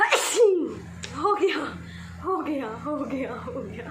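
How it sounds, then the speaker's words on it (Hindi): A single sharp sneeze at the start, close and loud, followed by someone talking in Hindi with a few breathy chuckles. "लेकिन एक ही छींक आई है।"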